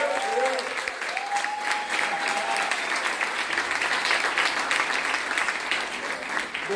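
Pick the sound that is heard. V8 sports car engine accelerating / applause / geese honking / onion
applause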